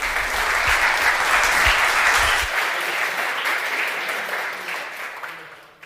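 A conference audience applauds at the close of a security talk, a steady dense wash of clapping that swells early and then gradually fades away.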